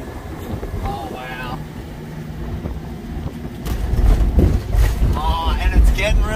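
Gusty, cold wind buffets the microphone with a low rumble, growing stronger partway through while people talk over it outdoors near water on the south coast of New South Wales.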